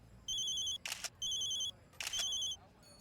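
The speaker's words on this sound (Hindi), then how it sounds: "आपका फोन सर।" A telephone rings in two-tone electronic bursts, repeating in a steady pattern about three times, fairly faint in a quiet room.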